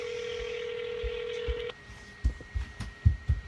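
A phone dials a call to a radio station: a steady tone holds for over a second, then a series of short dialing tones and thumping pulses follow, close and clear with no talking.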